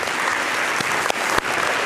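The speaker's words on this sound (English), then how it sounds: "Let's give them a round of applause." An audience claps at a Texas healthcare policy conference, greeting a physician and state representative. The burst is brief, dense and close, with sharper claps standing out near the end.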